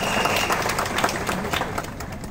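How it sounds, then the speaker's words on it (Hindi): A crowd at a Hindi-language stage event claps loudly and steadily, a dense, close burst of applause with scattered sharper hand claps and a little crowd noise. "एक बार जोरदार तालियां।"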